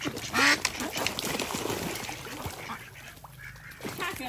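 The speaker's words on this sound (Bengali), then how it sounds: "হাঁসগুলারে নামাই দাও আরেকটা হাঁস বাহিরে আছে" Domestic ducks quack in a few short, bright bursts near a small duck bathtub, the calls loudest at the start and trailing off into quieter rustling.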